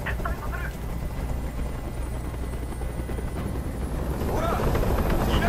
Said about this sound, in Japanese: あの音おかしくなりそうだ。 あのヘリコプターをどこかにやってくれ。